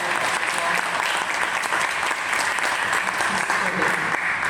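Loud, sustained applause from the audience at a panel discussion and Q&A, a dense continuous patter of many hands clapping with faint crowd noise underneath.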